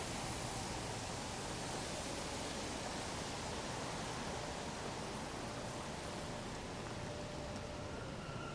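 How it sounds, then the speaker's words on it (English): Rain falling outdoors on a Sunday afternoon in New York City, a dense, even hiss of steady rainfall, faint and continuous with no voices. "Umbrella has to go back up. I feel the rain coming again."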